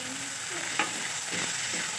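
Chopped tomato is stirred into ginger-garlic paste frying in a pan, giving a steady soft sizzle with occasional scraping stirs, close and fairly quiet, no talking.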